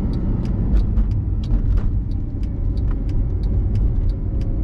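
A 2011 Mercedes-Benz SLS AMG drives steadily with a low, continuous engine rumble and road noise, interrupted by faint high ticks along the way.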